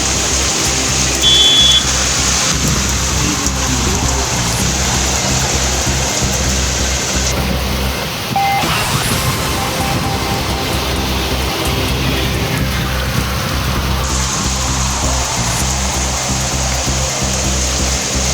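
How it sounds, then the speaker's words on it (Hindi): Heavy pre-monsoon rain driven by strong winds in Dehradun, a loud continuous hiss and rush that stays dense throughout with a brief dip midway. "झमाझम बारिश की शुरुआत और तेज हवाओं के साथ बारिश का सिलसिला भी जारी है"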